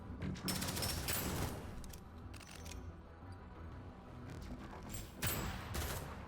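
Grenade explosions in a zombie-shooting space video game: several loud, sharp bursts with a dense, crackling spread. They come around one second, again near two and a half, and strongly near five to six seconds. No voices are heard.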